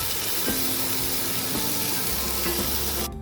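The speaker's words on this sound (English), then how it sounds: "Beef is already getting cooked. So mix it." Beef curry with cherry tomatoes sizzles loudly in a frying pan while being stirred, a constant close frying hiss with occasional soft utensil knocks, cutting off abruptly at the end.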